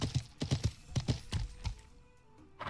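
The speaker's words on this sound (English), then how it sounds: "Horse is getting battered here." Horse hooves clopping in the medieval game Life is Feudal, a quick run of loud, close, heavy strikes in an uneven gallop rhythm that thins out and fades toward the end.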